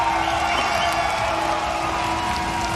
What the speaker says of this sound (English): this crowd in Lund, they make it sound like it's a big one